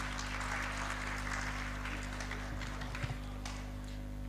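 An audience in a full hall at a Punjabi literary festival applauds, a dense steady wash of clapping heard at some distance over a constant low electrical hum.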